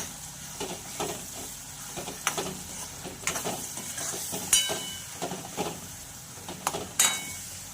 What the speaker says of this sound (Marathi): मी इथे चार मिरच्या घेतलेल्या आहेत जे कट मारून घेतलेले आहेत ते घालायचे आहेत आपल्याला आणि छानपैकी असं मीडियम गॅसवर आपल्याला हे फ्राई करून आहे